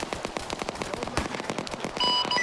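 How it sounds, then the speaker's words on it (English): Rapid gunfire from friendly players in a multiplayer shooter game, dense crackling bursts of shots in quick succession at moderate distance, with a faint electronic tone near the end and no talking. "That looks like you're being shot at by friendlies."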